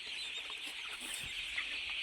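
Free-ranging chickens spread about a farm give a few soft, scattered clucks over a quiet background, fairly close but low in level.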